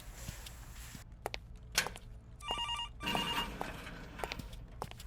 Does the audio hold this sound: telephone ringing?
yes